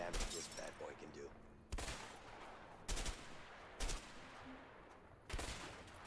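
Sniper rifle shots in a video game fired at empty houses: five loud, sharp reports spaced about a second apart, each with a short decaying tail, alone with no talk.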